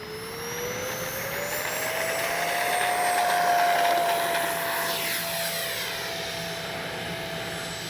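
An FMS 64mm Rafale RC electric ducted-fan jet flying overhead on its maiden flight, a loud steady turbine-like whine that rises in pitch and swells as it passes, then holds while drifting slightly lower.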